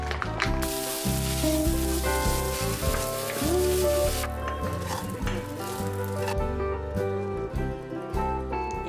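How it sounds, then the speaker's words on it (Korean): Jalapeño sausage fries in a pan without oil, giving a steady loud sizzle with crackling spits and occasional metallic clinks of a utensil against the pan throughout. "팬에다가 한번 구워보겠습니다."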